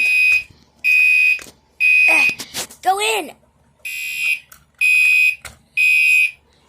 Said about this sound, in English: that's how you reset the fire alarm